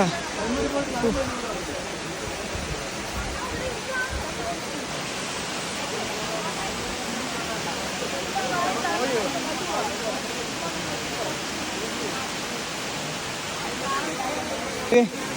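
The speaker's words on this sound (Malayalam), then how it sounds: "ഈ വെള്ളച്ചാട്ടം കാണാനാണ് നീ എന്നെ കൊണ്ടുവന്നത്" Waterfall at Kallar in Ponmudi gives a steady, broad rushing roar that fills the whole scene without letting up, with people talking faintly underneath.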